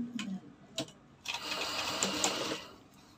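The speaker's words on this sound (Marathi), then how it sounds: "आता फोल्डिंग करून घ्यायचं असं आणि इथून असं शिलाई मारायची." A sewing machine runs a short burst of stitching along a folded blouse seam, whirring close by for about a second after a few soft handling clicks and thumps, with no talking.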